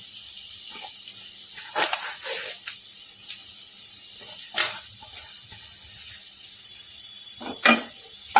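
Shredded cabbage sizzles faintly in a hot pan while being stirred for a vegetable soup, with soft scraping and a few sharper stirring bursts scattered across the quiet background.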